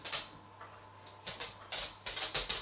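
A small dog's paws walk across a noisy wooden floor, giving clusters of quick, sharp clicks and taps close by, with quieter gaps between the steps and no talking.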